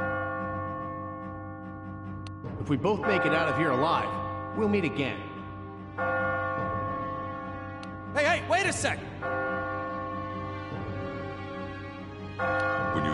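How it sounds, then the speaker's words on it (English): Bell tones ring out in a PS4 video game, a steady sustained ringing under spoken game dialogue with bursts of talk over it. "When you hear the bell ringing, you'll know that you've almost reached the goal."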